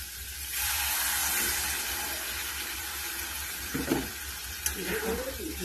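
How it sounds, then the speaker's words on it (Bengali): Water is poured into a pan of fried potatoes for a curry, setting off a sudden loud hiss and sizzle that settles into steady bubbling, with a few small clinks near the end. "কষানো হয়ে গেছে, এখন আমি জল দিয়ে দেবো।"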